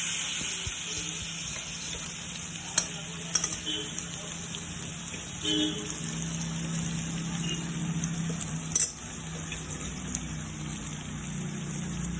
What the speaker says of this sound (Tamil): மேரினேட் பண்ணி வச்சிருக்கிற சிக்கன் ஆட் பண்ணுறோம்